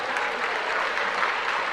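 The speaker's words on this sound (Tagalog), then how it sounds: "Ipalakpak sa Panginoon." A church congregation claps their hands in steady, dense applause throughout, loud and continuous, with no gaps.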